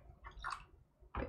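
Water poured and splashing into a tray for a Polaroid lift, two brief faint bursts of trickling and sloshing separated by a short quiet gap.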